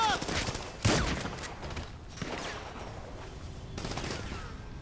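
Gunfire in the video game GTA Online, dense bursts of rapid shots that swell, fade and return across several seconds, loud and close over a busy background of game noise.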